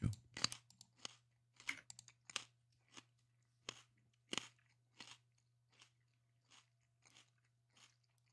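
Loud, close crunching and chewing in a steady run of sharp bites, each crackly burst standing alone over a low steady hum, with no talking.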